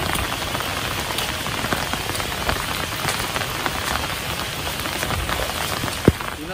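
Steady monsoon rain pours outdoors over open fields, a dense, even hiss of drops with one sharp nearby splash near the end.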